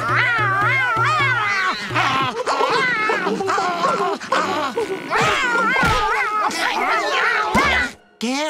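Gary the snail from the SpongeBob cartoon meows like a cat in a long, wavering caterwauling wail, loud and close, with cartoon voices and thumps mixed in.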